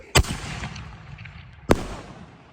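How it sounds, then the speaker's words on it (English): Two sharp, loud fireworks blasts set off outdoors at a New Year celebration, about a second and a half apart, each a sudden bang trailing off into a short rumble with no voices in between. "We lighting fireworks and shit."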